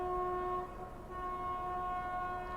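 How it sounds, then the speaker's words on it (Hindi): Shivganga Superfast Express, the Banaras–New Delhi train, passing close while overtaking at speed, with a steady sustained horn tone over a continuous rumbling roar of the moving train. "बनारस नई दिल्ली शिवगंगा सुपरफास्ट एक्सप्रेस क्या आ रही है भाई, शिवगंगा सुपरफास्ट एक्सप्रेस।"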